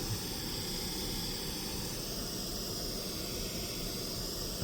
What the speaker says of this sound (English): One way I like to double check is I like to put my white noise, pink noise in mono.